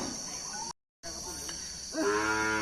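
Cattle at a Thai livestock market where cattle from Chiang Mai are sold, with one close, loud moo near the end rising out of steady insect-like buzzing and market background, after a brief dropout.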